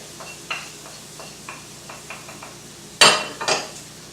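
Paprika and cumin are dumped into a pot and stirred with a wooden spoon, giving soft repeated scraping taps followed by a louder clattering scrape and knock near the end, close and without talk.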